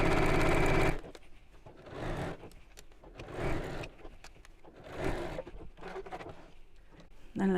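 A sewing machine stitches around a quilted drawstring bag in several short runs, starting and stopping with brief pauses, close and fairly quiet.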